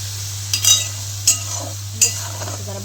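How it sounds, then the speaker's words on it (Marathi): Spice masala dry-roasts in a pan as a spatula scrapes and stirs in three short, distinct strokes over a constant low hum. "जरा भाजून घेऊ त्याला जरा आपण."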